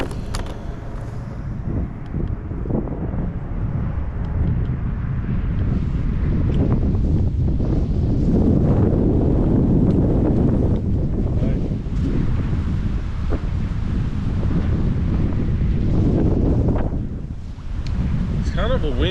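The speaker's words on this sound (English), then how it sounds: "It's kind of a windy day," Heavy wind buffets the microphone with a constant low rumble that surges and eases, loud and close throughout.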